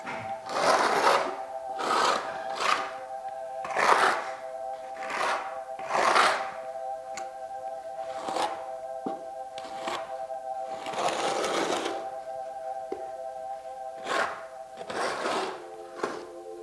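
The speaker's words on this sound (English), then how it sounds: "It seems to be troweling a little easier, and I think that's going to give us actually better coverage on the fleece." A trowel spreads Ardex 8+9 waterproof adhesive across Kerdi fleece membrane, a series of close, rasping scrapes in repeated strokes of about a second each, interspersed with short pauses and faint clicks, with no talk.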